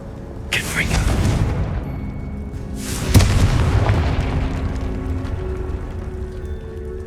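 Two deep booming blasts from a Confringo fire spell in the Hogwarts Legacy video game, each a sharp burst trailing into a long rumbling decay, with game ambience underneath.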